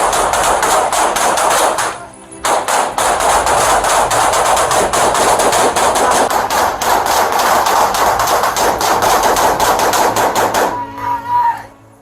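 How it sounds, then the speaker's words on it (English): Police gunfire in a dashcam-recorded shootout: a long, loud burst of rapid, sharply repeated shots that breaks briefly near the start and stops just before the end. "Police immediately returned fire."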